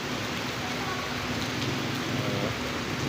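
Steady, dense rain pouring down over floodwater in Manila, a continuous broadband hiss with no breaks throughout.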